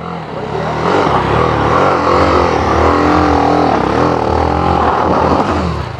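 A motorcycle engine revs loudly and close on a muddy off-road track at Rati Ghat, its pitch rising and falling in repeated throttle surges.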